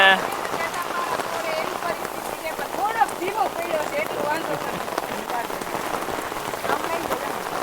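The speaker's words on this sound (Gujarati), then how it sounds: "આજ જે વરસાદ પડ્યો ને આ તો પેલી ફળે પડ્યો" Steady heavy rain pours down on a surface, a dense continuous hiss, with faint voices now and then beneath it.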